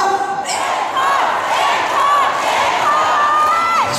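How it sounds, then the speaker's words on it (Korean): A crowd at the Hamyang dried persimmon festival loudly chants and shouts for an encore for a guest singer, many voices in a dense, continuous outdoor roar with a few higher whoops. "저기도 아쉽다면 앵콜 세 번만 크게 외쳐주세요."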